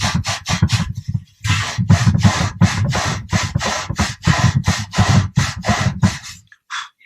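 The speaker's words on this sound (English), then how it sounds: "And so now we clean with Scotch-Brite." A Scotch-Brite pad scrubs metal hardware on a Grumman aircraft, loud close rhythmic back-and-forth rasping strokes in quick succession with a brief pause, then a final short rub.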